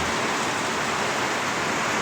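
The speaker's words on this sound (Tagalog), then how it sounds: "Ayan, napakalakas ng ulan." Heavy rain pours down in a steady, dense hiss, loud and close, with no voices over it.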